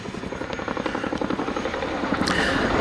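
A Chinook helicopter in an airshow display throbs loudly and steadily with rapid rotor chop, a dense continuous pulsing that stays close and strong throughout.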